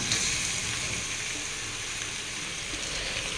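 Washed mutton pieces dropped into hot oil with ginger garlic paste for a Telangana mutton curry, giving a steady close hiss and sizzle with faint stirring.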